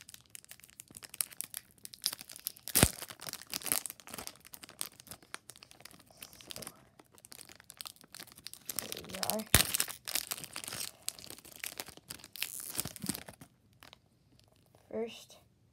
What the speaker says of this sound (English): today I'll be opening some baseball cards